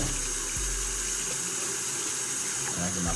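Tap water runs steadily onto a towel, a constant close hiss that holds without pause from start to end.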